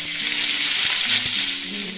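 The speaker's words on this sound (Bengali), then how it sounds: "এই যে আলুগুলোকে ছোট ছোট করে কেটে আমি একটু সেদ্ধ করে রেখেছি সেগুলোকে দিয়ে দিলাম" Small boiled potato pieces hit hot oil with mustard seeds and chillies, making a loud, close, continuous sizzle broken by a few soft knocks from stirring.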